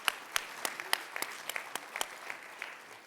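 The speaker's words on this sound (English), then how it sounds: "One last round of applause for them." Scattered clapping from an audience at a cyber conference's closing session, a thinner round of separate hand claps for guest speakers that tapers off.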